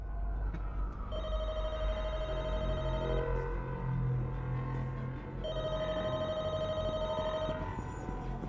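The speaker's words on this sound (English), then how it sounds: "Oh no, the phone's ringing." A telephone rings in The Walking Dead: Michonne game, two long electronic rings separated by a short pause, steady and clear over a low ambient game background.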